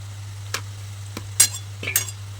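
A few separate scrapes and clinks of a spoon stirring kapanya snacks frying in oil, spaced out over a steady low hum, with a faint sizzle between strokes and no talking.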